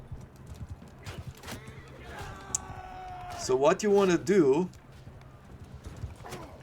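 Horse hooves clip-clopping in a team battle event in Mount & Blade 2: Bannerlord, a steady moderate beat under a voice, with a swell of louder in-game noise midway.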